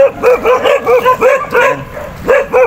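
A dog barks repeatedly near a rural delivery stop for a Rusi TC Macho 125 motorcycle, loud rhythmic yaps and bow-wows in quick succession with a slight whimpering tone, no talk.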